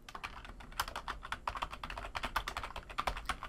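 Rapid typing on a computer keyboard, crisp close keystrokes in quick uneven bursts with short pauses, no talk.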